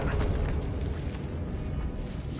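Confringo blasting spell going off in Hogwarts Legacy: a loud eruptive rumble opens strongly and keeps churning, with a few sharp crackling bursts scattered through the roar as it slowly eases, no voices present.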